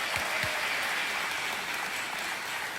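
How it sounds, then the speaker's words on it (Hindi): An audience applauds to welcome a guest and her mother at a televised gathering: dense, steady clapping that holds at an even level for the whole stretch, with no voices on top. "तालियों के साथ आपका स्वागत करते हैं"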